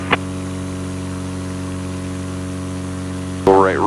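A small airplane engine runs at a steady, loud drone while lined up on the runway centerline of a 9,000-foot high-altitude airport, and a brief radio or voice blip sounds at the start and just before the end.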